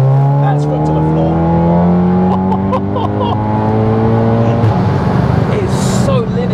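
A 632bhp front-wheel-drive Cupra 280 at full throttle, its engine note climbing steadily through the gears in long rising sweeps with a quick shift break, loud and close from inside the car.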